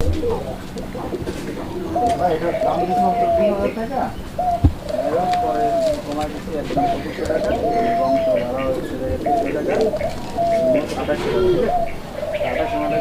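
Pigeons coo repeatedly in soft, rolling calls, several birds overlapping at close range at a pigeon sale, with some background voices and rustle.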